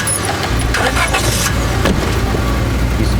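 Small two-seater truck engine in the Scarlet Hollow video game, a steady mid-low motor rumble running continuously and fairly loud throughout, with no talking.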